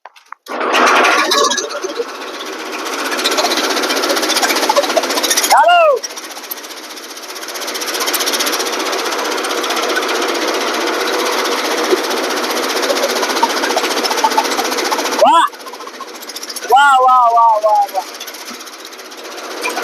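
An Avani chaff cutter runs steadily, cutting wood, with a loud, continuous mechanical roar and clatter that starts abruptly and holds for most of the stretch, broken by a few brief pitched squeals.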